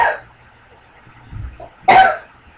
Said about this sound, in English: So I just had a cough.